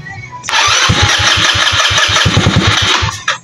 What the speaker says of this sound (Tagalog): ayaw umandar, may konting redundo, pero ayaw magtuloy